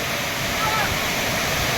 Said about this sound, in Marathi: आपण आलो आहे जव्हार येथील या खडखडा येथील धबधब्यामध्ये